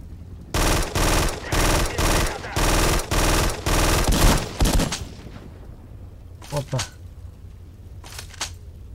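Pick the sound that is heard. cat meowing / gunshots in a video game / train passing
gunshots in a video game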